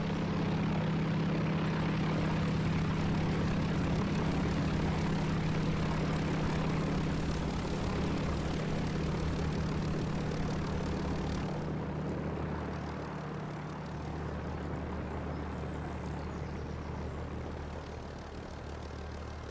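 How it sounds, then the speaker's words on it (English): Droning propeller aircraft engine in War Thunder, a steady loud hum with a low tone that holds for most of the stretch and then fades slightly toward the end, with no speech. "I might have to reduce the sound of other aircraft engines because that seemed ever so loud"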